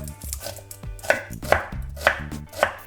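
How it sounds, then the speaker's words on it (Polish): A knife dices a peeled onion on a board with about six or seven crisp, close chops in an uneven rhythm, loud and clear with no voices. "Cebulę po prostu obieramy, kroimy w drobną kostkę."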